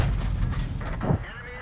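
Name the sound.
tank cannon fire in the video game World of Tanks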